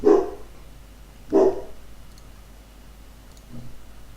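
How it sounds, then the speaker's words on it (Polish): A dog in a quiet room gives two clear barks about a second apart, then a fainter third yelp, with soft ticking underneath. "O, przepraszam, to mój pies."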